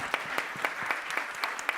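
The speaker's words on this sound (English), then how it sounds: "deserves a big round of applause for that" An audience applauding at a Food Is Medicine event, steady clapping with distinct sharp hand claps standing out near the listener.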